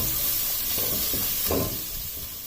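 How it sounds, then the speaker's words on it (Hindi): Garlic and ginger paste with chopped green chilies fries in hot oil, a steady close sizzle and hiss with a few brief stirring scrapes, with no voices. "लहसुन और अदरक के पेस्ट को 2 मिनट तक फ्राई करने के बाद"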